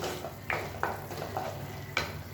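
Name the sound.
masala frying and being stirred in a pan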